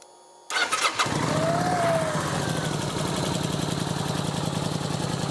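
A Kawasaki VN900 Classic motorcycle with a battery charging fault cranks briefly and fires up, then settles into a steady, close, rhythmic idle thump.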